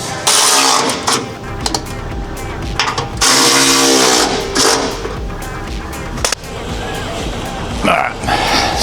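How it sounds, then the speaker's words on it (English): A ratchet clicks away at a 15mm bolt on an exhaust spacer of a pickup truck, in loud, fast bursts separated by short pauses. Metallic clanks and shop noise come between the bursts. "Got to undo this spacer. It's a 15mm bolt."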